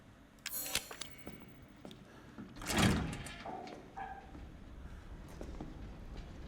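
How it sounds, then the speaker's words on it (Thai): A door closes in the horror video game Resident Evil 7, landing as a single faint thud among soft scattered clatter in a quiet room. "ปิดประตูให้กูด้วย ขอบใจมากเลยอันนี้"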